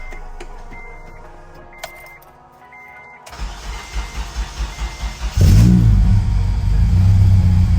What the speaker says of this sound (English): I'm about to start her up real quick, see what happens